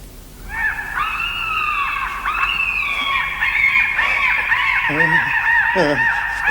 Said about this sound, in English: Black seagulls.